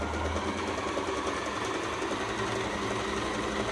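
An Usha Janome Stitch Magic sewing machine stitching steadily, a continuous close mechanical whir with a fast even rhythm that holds throughout, with no voices.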